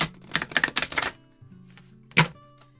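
A deck of playing cards is cut and handled at a table, giving a quick burst of crisp riffling clicks, a pause, then one more sharp slap of cards, close and fairly quiet.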